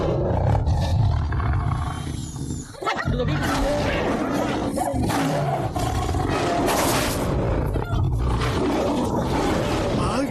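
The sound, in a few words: tiger roaring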